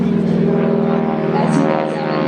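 A propeller airplane climbs to begin an aerobatic routine at the Wings Over Camarillo airshow, a loud steady engine drone with layered harmonic hum held throughout, rising slightly in pitch near the end.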